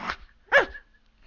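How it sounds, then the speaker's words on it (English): Wolves from a tabletop game sound effect give two sharp, loud barks about half a second apart, with a rough, growly edge and quiet gaps between. "They're kind of growling and starting to bark"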